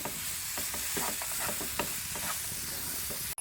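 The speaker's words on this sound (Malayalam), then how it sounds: "ഇനി അത് നമുക്ക് നന്നായിട്ടൊന്ന് മിക്സ് ചെയ്തെടുക്കാം" Roasted poha is mixed with jackfruit in a pan after the flame is switched off, a quick run of scraping, rustling stir strokes close up over a faint steady hiss, with no voices.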